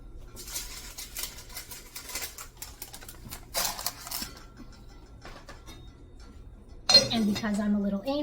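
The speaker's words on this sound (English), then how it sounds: "the lids have to go on the right pot" Metal lids set onto pots used for baking sourdough, giving scattered clinks and clatters, then a louder ringing clank near the end, heard close by in a kitchen.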